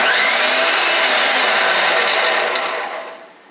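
An old GE food processor slicing potatoes roars with a loud, steady motor whir up close, then winds down and fades over the final second.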